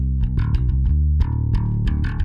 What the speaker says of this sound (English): Starting everything off with a sick bass line.